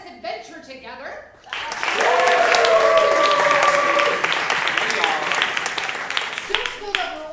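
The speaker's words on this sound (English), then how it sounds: "And give each other a round of applause as we head on this adventure together." An improv comedy show crowd breaks into a loud, sustained round of applause after a brief stretch of talk, the clapping swelling quickly and holding steady before tapering slightly.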